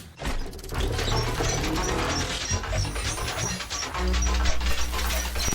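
Jammed gear mechanism ratcheting and grinding as a drama sound effect: a dense, continuous mechanical clatter of clicking pawls and gears, close and loud, with a heavier grinding drone entering near the end.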